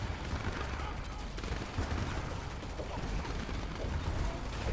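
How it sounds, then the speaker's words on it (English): A dense, continuous battle din from Command & Conquer 3: Kane's Wrath on the Coastline Chaos map, with rockets and crackling gunfire blending into a steady roar of overlapping small shots and whooshes at moderate loudness. "Look at all these rockets flying back."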